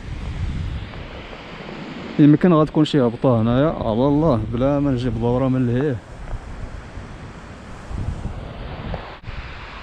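Sea waves and wind at a rocky beach in Mirleft, with no sand, only stones. The surf and gusty wind rumble steadily, and someone talks nearby through the middle of it.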